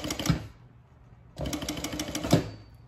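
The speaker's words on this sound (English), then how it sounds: "I'm just going to sew really close to the edge of my design piece." An industrial sewing machine stitches close to the edge of a vinyl design piece in two short rapid bursts of mechanical rattling, near and fairly loud, with a brief pause between them.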